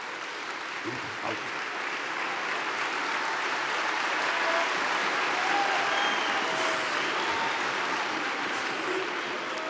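Steady, dense applause from an audience at a parliamentary party group meeting, sustained and even throughout with no pauses, a broad crowd roar of clapping from many hands.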